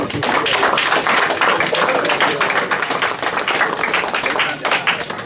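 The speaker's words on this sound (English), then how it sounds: "Another round of applause for Akh Avishaddai" Members of a synagogue congregation clap together at a morning service, a continuous, fairly loud patter of many hands with no pauses.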